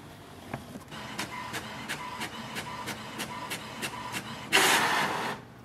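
An HP Smart Tank 7001 printer prints a document, giving a series of regular mechanical clicks and whirs in an even rhythm, then a louder burst of paper feeding near the end, heard close and alone.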